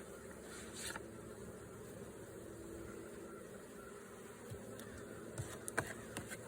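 Honey bees hum at a hive in a dense, continuous buzz during a fall hive check in South Carolina, with individual insects zipping past the listener now and then.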